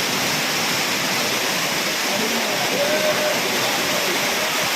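Steady, dense rush of a waterfall in the men's bathing area, constant and fairly loud, with no breaks across the whole stretch.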